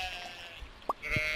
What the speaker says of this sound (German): Okay, Schafe scheren.